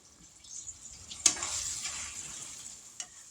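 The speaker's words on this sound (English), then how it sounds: "Now let's get back over here and stir this hamburger meat." Hamburger meat frying in a pan for Hamburger Helper Salisbury, with a faint sizzle and one sharp utensil clack on the pan followed by soft stirring.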